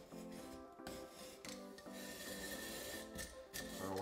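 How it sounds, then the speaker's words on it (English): Romex electrical cable sheathing is slit down the middle with a blade, giving a faint, repeated scraping rasp in short strokes, close up and with no talk. "When you're stripping this Romex here, you're just gonna go down the middle of it."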